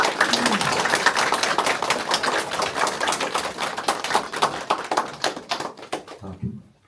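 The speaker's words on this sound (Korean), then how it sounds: "다시 한번 교육감 출마를 선언하신 고인숙 의원님께 격려의 큰 박수를 부탁드리겠습니다." Dense audience applause at a press conference for a Jeju education council member announcing a run for superintendent, loud and sustained for about six seconds before cutting off quickly into a brief voice.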